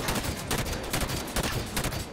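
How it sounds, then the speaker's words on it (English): Enemy turrets firing in Halo 5: Guardians on Legendary difficulty, a dense unbroken fusillade of rapid shots and impacts, loud and close throughout with no talking. "Oh my god, these turrets. I'd like it if they stopped shooting at where I was."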